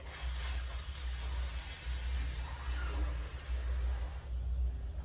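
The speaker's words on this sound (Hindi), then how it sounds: "ये कुकर इतना आवाज कर रहा है, सीटी मार लिया है फिर भी आवाज कर रहा है।" A pressure cooker's loud, steady high-pitched hiss of escaping steam over a low hum, cutting off abruptly near the end.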